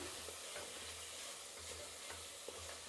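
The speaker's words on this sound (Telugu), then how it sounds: "ఇప్పుడు దీన్ని బాగా కలుపుకునేద్దాం." Masala with mint, coriander, green chillies, salt and turmeric stirred in a pan for mutton biryani, a quiet, steady hiss of frying with soft, repeated stirring scrapes throughout; no talking.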